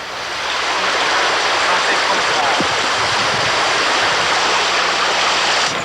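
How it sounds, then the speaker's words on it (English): Rushing river water near a village in San Bartolo, Nicaragua, a steady loud broadband wash that holds constant from start to finish with no voices over it. "the trek to the river to wash."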